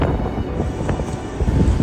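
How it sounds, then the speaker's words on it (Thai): Strong wind blows steadily across a cold hilltop campsite in Thailand, buffeting the microphone with a loud, continuous low roar and no talking. "เห็นปะลมลมค ือคอพัดพัดตลอดลมแรงที่สุดทที่เราไปมา"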